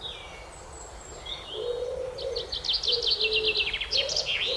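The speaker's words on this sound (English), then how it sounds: "The sounds of the birds are like freaking me out." Birds call in a Scottish forest, with high, rapid trilling phrases and shorter chirps repeating over a soft background hiss, moderately close and growing busier toward the end.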